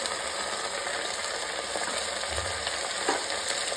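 Peas, cauliflower florets, potato and carrot fry lightly in a pan, giving a steady close sizzle with faint scraping from stirring and a soft low thump near the end, and no talking.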